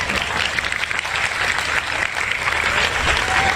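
An audience clapping together, a dense steady burst of applause close and loud throughout.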